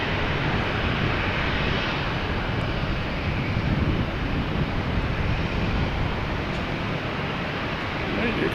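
An American airliner approaches Boston Logan Airport, heard as a continuous broadband engine rumble and rush with wind noise, steady and fairly loud without clear peaks.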